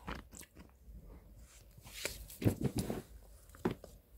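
Edible slime made from melted ice cream slushy is chewed close to the mic, with soft wet bites and crunchy squelches in irregular bursts, loudest toward the middle of the clip.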